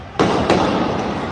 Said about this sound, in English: All of a sudden you hear fireworks.